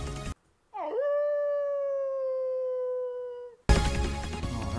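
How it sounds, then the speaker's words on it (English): A werewolf mask howl animation from the video game PokeMMO: one long, clean synthesized howl that swoops up and then holds a steady, slowly falling tone for about three seconds, standing alone between bursts of loud game music. "The previous howl animation is now triggerable"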